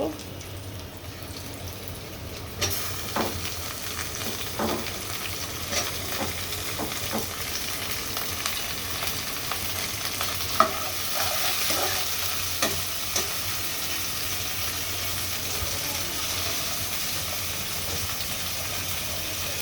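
Prawns sizzling in fried spice paste in a home kitchen pan, a soft continuous hiss with scattered spoon scrapes and knocks as they are stirred, over a faint low background hum.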